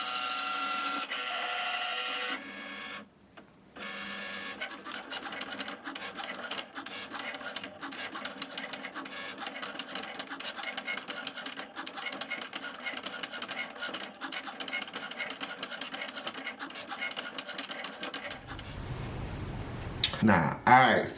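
A Cricut Maker cutting heat-transfer vinyl gives a steady mechanical whir with rapid clicking carriage movements, running continuously close by before stopping near the end, with a voice briefly heard.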